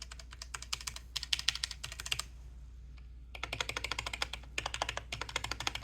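Fast typing on a Logitech G915 keyboard, close and crisp: two bursts of rapid key clicks separated by a brief pause, with light, fairly quiet keystrokes and no voices.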